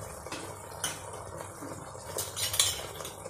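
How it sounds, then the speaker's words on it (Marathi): A spoon stirs spices into a chole masala mixture in a pot, giving soft close scraping and occasional metallic clinks against the pan, quiet and irregular. "आपण हे सर्व मसाले आपल्या ह्या पूर्ण ह्या मिश्रणामध्ये एकजीव करून घेऊया"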